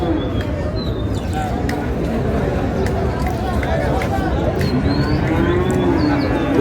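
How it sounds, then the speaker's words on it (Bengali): Large sacrificial bulls low and moo repeatedly at a busy cattle market in Dinajpur, several long calls rising over a dense crowd babble of traders talking nearby. "কুরবানির উপযোগী ষাঁড়।"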